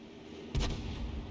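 A single M44 artillery piece fires a shell in a video game, a deep boom with a sharp crack, followed by a lingering low rumble.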